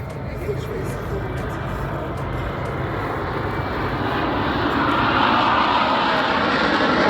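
Fixed-wing aircraft passing at an airshow, a broad engine roar that steadily swells louder toward the end as it draws nearer, with a faint voice beneath at first.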